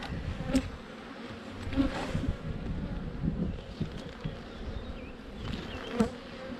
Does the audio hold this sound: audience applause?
no